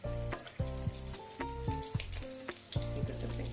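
Stuffed potato and cheese balls frying in hot oil, a steady close sizzle with soft stirring taps and a tonal ringing hum over it, no talk.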